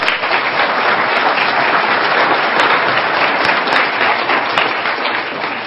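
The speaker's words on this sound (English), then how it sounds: "Give them a round of applause." Loud, sustained applause from an audience, dense clapping filling the whole stretch without pause and no one speaking over it.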